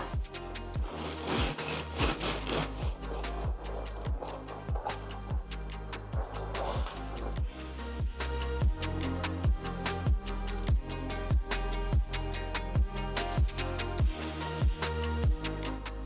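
A knife saws through a crusty homemade potato bread baked in a cast iron pot, giving steady back-and-forth rasping strokes with crisp crackles of crust, close and continuous.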